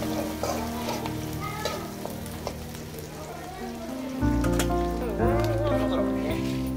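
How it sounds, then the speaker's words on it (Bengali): Whole spices, such as dried red chillies and bay leaves, temper in hot oil for a rohu fish curry with potato and tomato. The oil crackles and sizzles steadily, then swells louder partway through. "বাট আমি এত ফোড়ন দিচ্ছি না, অল্প কিছু ফোড়ন দিতেছি।"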